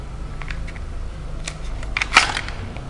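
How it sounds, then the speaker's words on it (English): A Fobus thumb-release retention holster letting go of a pistol: a few soft clicks and rustles, then one sharp plastic snap near the end, close and brief. "push with your thumb to release the pistol from within the holster"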